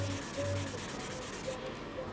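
A silver-painted model kit part being sanded by hand, a steady soft abrasive rubbing that runs continuously at low volume with faint scratchy strokes.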